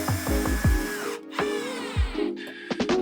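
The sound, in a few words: power drill driving 20mm screws into wood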